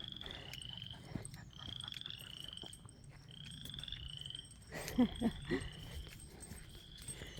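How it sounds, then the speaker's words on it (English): Frogs croaking in a steady outdoor chorus, with several louder, closer croaks bursting out near the end over a constant background of calls. "That is frogs. They're croaking."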